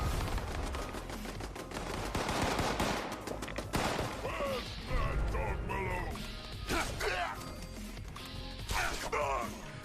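Enemies in Fallout 76 trade rapid gunfire, with bursts of shots and crashing impacts clustered early and scattered later, and voices talking and shouting over the fighting.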